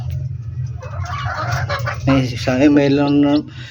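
A hen clucks and honks close by in a series of rising calls over a low background hum, with a voice talking faintly in the background.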